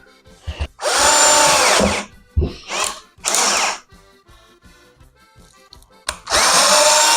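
A power drill drives a screw into a bathroom door, whirring loudly in several bursts of varying length separated by quiet pauses, heard up close with no talking.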